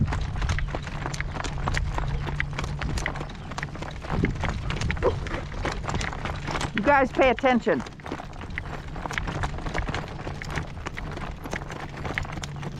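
A horse trotting outdoors on a windy day, with steady rhythmic hoofbeats clip-clopping close by under blustery wind noise, while a person speaks briefly partway through.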